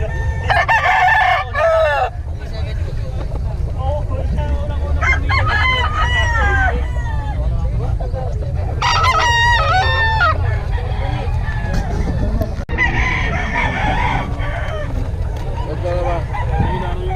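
Several roosters crow loudly over and over at a busy outdoor gamecock market, with clucks mixed in, while people talk nearby amid a constant low crowd murmur.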